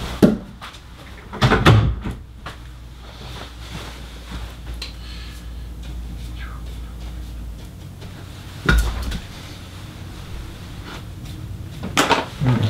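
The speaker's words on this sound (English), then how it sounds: "let me shut that door" An interior door being shut during indoor mural painting, with several thuds and knocks, a louder burst near the start and solid bumps later, over a quiet room.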